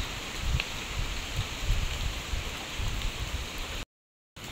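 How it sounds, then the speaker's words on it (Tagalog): Steady, dense rainfall pours down in a continuous hiss, loud and close, with heavier drops pattering throughout before a brief cut. "grabe naman po ang ulan"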